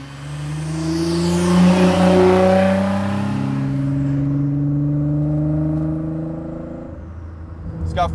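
A Nissan GT-R with over 650 hp and a full exhaust revs hard and accelerates, a loud, rising engine roar with shifting harmonics that settles into a steady drone, then a brief sharp burst near the end.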